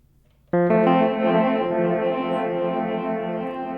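Elektrisk Draume V2 pedal by Pladask, set to grain mode, processing an Elektron Digitone synth: a dense sustained chord enters suddenly and rings on with a thick, shimmering, slightly echoing texture, loud and alone.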